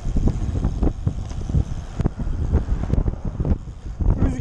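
Buffeting wind roars across the microphone in uneven gusts while road cycling, a low rumbling rush with no voices.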